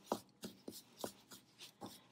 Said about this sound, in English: The next thing I'll do is take my spoon and begin mixing.